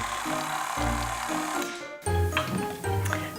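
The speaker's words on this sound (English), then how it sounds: "Turn the mixer back on low and just let it all come together into a ball." Stand mixer running on low, working sweet pie pastry dough with flour into a ball: a continuous close motor hum with a shifting tone and a brief dip partway through.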